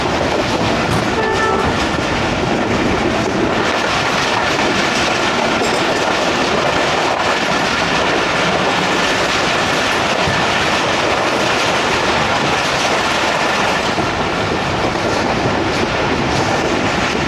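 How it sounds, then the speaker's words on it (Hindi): Two passenger trains crossing at Kala Gujran station on a Pakistani railway line, a steady loud roar of rolling wheels and rhythmic clickety-clack close by, with a brief horn and faint squeal through the continuous rush. "दोनों सिस्टर ट्रेन्स की यहाँ पे मुलाकात हुई काला गुजरा में"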